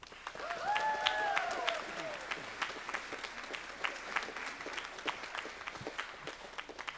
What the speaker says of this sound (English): So let's give a round of applause for Paris Renhack.